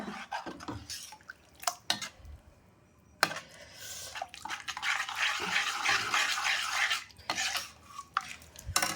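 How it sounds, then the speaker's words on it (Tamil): Water is poured into ground idli and dosa batter in a kitchen, with splashy trickling, liquid gurgles and occasional knocks of a utensil against the bowl, all heard close and with no talk. "நான் இன்னும் கூட தண்ணி ஊற்றுறேன்"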